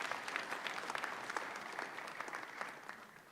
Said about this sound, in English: I request that we give a final round of applause to our Cabinet Secretary.